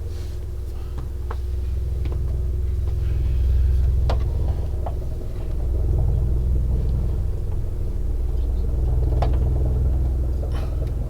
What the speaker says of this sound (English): very large helicopter flying over, probably a Chinook